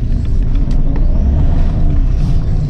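A VW Bora with a VR5 engine driving along, its deep engine rumble heavy and steady from close by for the whole stretch, with no talking over it.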